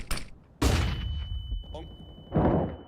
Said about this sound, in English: Fire in the hole. Flashbang.